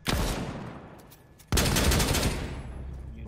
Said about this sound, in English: Well, they're shooting.